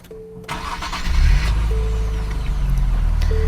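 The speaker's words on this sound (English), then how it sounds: "You can hear it has that typical Nissan Infiniti starter noise with that V6 it fires to life." Nissan Z V6 engine cranking over with a starter whir and firing to life, then settling into a loud, steady idle rumble up close, with no talking.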